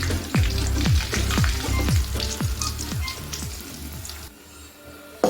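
Chili, turmeric and fenugreek powders sizzle in hot oil for a Kerala lemon pickle cooked over a wood-fired stove, a loud steady frying hiss broken by repeated stirring scrapes, fading slightly near the end.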